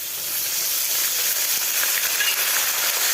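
Ginger tipped into a hot pan with bay leaf and green chilli hisses and sizzles steadily and fairly loudly throughout, with no pauses and no talking.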